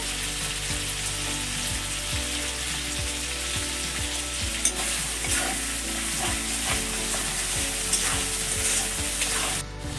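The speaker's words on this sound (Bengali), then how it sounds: "মশলা ভালো করে কষানো হয়ে গেছে" Spice paste of ground cumin, coriander, chili and turmeric sizzling loudly in a pan, with a steady fry hiss and regular scraping stirs of a spatula, close up and without talk.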